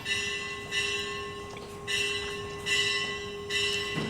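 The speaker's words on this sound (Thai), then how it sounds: "อ๋อเสียงระฆัง" Bell strikes ring out about every second, each tone hanging over a steady hum and faint background noise, sounding somewhat distant.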